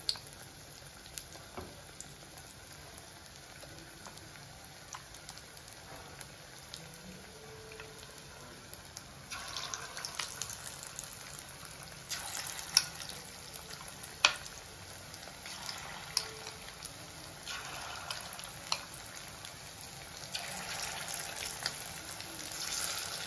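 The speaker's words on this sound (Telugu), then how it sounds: "ఆయిల్ హీట్ అయిందండి. ఇప్పుడు మనం నానబెట్టుకున్న చికెన్ ఉంది కదా, అది ఫ్రై చేసుకుందాం." Soaked chicken pieces frying in hot oil for restaurant-style chilli chicken: a faint, steady sizzle that grows louder partway through, with small crackles and pops and no voices.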